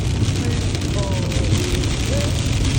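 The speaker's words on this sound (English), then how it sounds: "We got some rain." Rain falls in the cold Bighorn Mountains at about 44 degrees, a steady, dense hiss that holds evenly throughout with no clear breaks.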